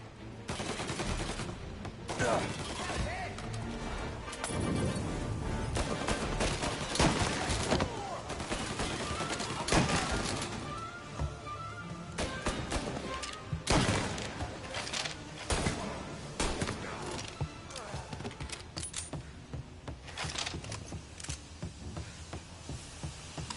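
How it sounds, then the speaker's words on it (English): Tommy gun fire in Mafia: Definitive Edition, loud sustained bursts of rapid automatic shots layered into a dense fusillade from several shooters, continuing almost without pause, close and alone. "Everyone's got Tommy guns apparently."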